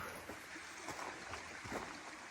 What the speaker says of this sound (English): So I hear some water, I gotta go check this out.